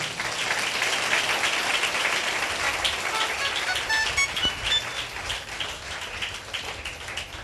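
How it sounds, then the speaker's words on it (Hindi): A church congregation claps together on Palm Sunday, a soft, even patter of many hands sustained throughout at moderate distance, easing slightly toward the end. "क्यों ना परमेश्वर को धन्यवाद दें, ताली बजा के धन्यवाद"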